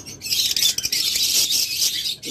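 A pair of pet birds calls close by in a steady stream of shrill squawks and chirps, the dense chatter running without pause and with no talking.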